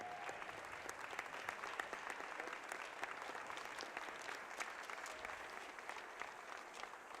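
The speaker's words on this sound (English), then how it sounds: "give a big round of applause for these outstanding officials" Basketball game crowd claps steadily in a gym arena to honor the game officials, a dense, even wash of applause lasting throughout, moderately distant, with no voices standing out.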